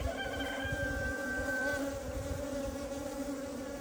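Honey bees buzz steadily around a hive frame during an inspection, a dense continuous drone close by with one individual bee's whine standing out briefly.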